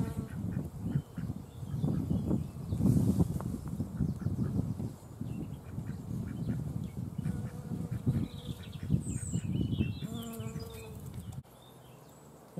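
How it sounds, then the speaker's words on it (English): A small nomada cuckoo bee, a wasp-like bee, buzzing as it visits apple blossom in a spring garden, with a steady close hum broken by shifting buzzes and an abrupt quieter stretch near the end. "There's a little nomada cuckoo bee. Rather gorgeous little wasp-like bee."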